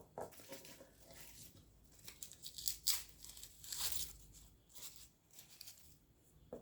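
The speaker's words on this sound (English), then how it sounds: "Just take off a little bit of that excess paper." Dry papery skin is torn off a freshly harvested garlic bulb by hand, giving faint, close crinkling rips in short bursts with quiet pauses between them.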